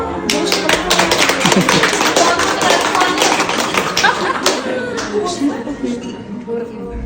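A group of women applauds at a lively birthday gathering, with a dense patter of claps that fades toward the end, mixed with overlapping voices and chatter.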